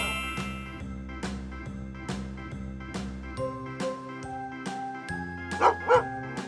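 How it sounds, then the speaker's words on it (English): A dog barks twice in quick succession near the end, short and sharp over steady, rhythmic children's learning music with repeated notes. "Dog."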